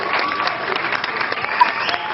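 A crowd claps steadily, a dense patter of many hands at fairly close range, continuous for a couple of seconds with one sharper clap standing out near the end.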